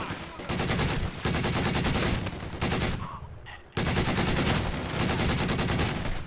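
Dense machine gun fire and rapid gunshots fill a Company of Heroes 2 battle, loud and nearly continuous, with one brief lull before the bursts resume at full volume.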